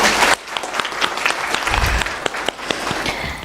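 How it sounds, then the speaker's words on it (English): Audience applause at the opening ceremony of the 13th edition of the AKMCC, steady and dense clapping from a large crowd filling the whole moment, with a brief dip near the start. "A round of applause, please."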